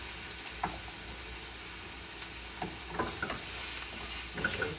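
A spoon stirs partly frozen peas and other ingredients in a pot for lasagna, giving soft intermittent scrapes and taps over a faint steady sizzle, quiet and close.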